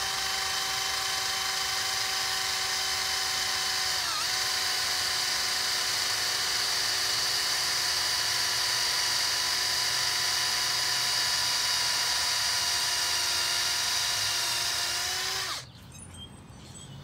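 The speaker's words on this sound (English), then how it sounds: "And then we'll just drill out all these crayons and keep moving." A power drill with a 5/16 inch bit drills slowly through crayons packed in refractory, making a steady high whine with a brief dip partway through before it stops near the end, alone and fairly close.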